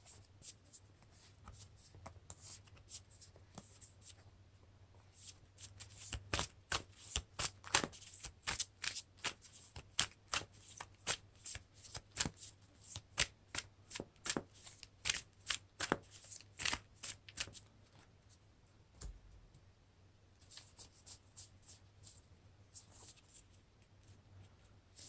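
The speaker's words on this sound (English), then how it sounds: "we get to shuffle these in and draw 7 cards." Playing cards riffled and shuffled on a table during a Lord of the Rings card game, a quiet run of quick crisp flutters and snaps starting slow and building into dense bursts before trailing off.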